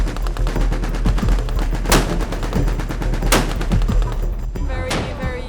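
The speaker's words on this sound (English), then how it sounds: "all the ships are going to open fire on the killer tornado at the same time" Guns aboard the US Navy destroyer USS Ross (DDG-71) and accompanying warships firing at an aerial target, three loud, sharp blasts spaced about a second and a half apart over a steady roar of shipboard and wind noise.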